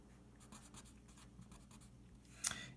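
A formula for angular momentum is written out by hand on a board during a physics lecture, with soft, quick scratching strokes and a sharper tap near the end, faint and close, no voices.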